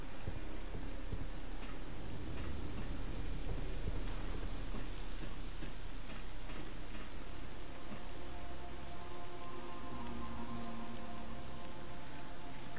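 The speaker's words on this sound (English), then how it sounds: "I can't see in this rain." Steady heavy rain pouring over a surface in the video game Lost Alpha, with a low rumble of thunder underneath; no voices.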